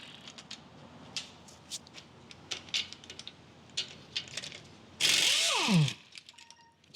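A ratchet wrench with a 19 mm socket working on the caliper bracket of a Honda Ridgeline: scattered quiet ratcheting clicks, then a loud rasping burst of rapid ratcheting with a descending metallic whine.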